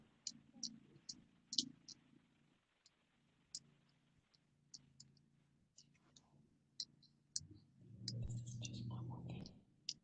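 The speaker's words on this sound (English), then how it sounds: "Patiently listening to Austin's typing abilities" Quick, light clicks tap out in irregular bursts as keys are typed during an online video call, with a faint voice murmuring low underneath and a louder rustle near the end.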